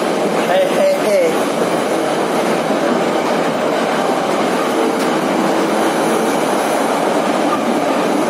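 Moscow metro train running, a loud continuous rumble and rattle of carriages with a brief wheel squeal near the start, and voices talking over it.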